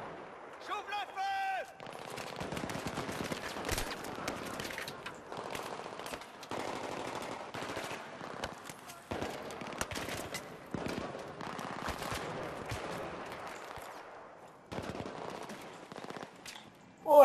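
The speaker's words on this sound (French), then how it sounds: "J'ouvre le feu!" Gunfire in the video game Battlefield 3, bursts of automatic fire and scattered shots crackling steadily at moderate level, with voices calling out briefly over the fire.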